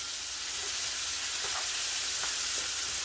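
Tomato and onion sizzle steadily in a hot pan with salt, a constant bright frying hiss broken by a few faint pops and stirring sounds, with no one talking.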